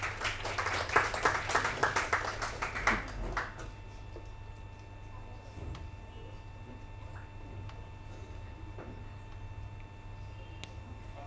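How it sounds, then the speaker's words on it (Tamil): Audience applause at a book release event, dense clapping for about three seconds that then fades to scattered claps over a quiet room. "கரகோஷம்."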